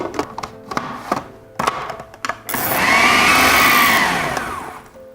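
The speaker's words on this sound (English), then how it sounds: "you want to just probably blend it a little bit longer" A countertop blender whirs steadily through a thick kale falafel mixture after several short bumps and knocks, the motor loud, sustained and rising slightly in pitch before easing off at the end, with no talking.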